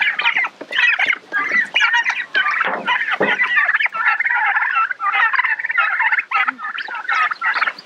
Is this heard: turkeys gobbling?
yes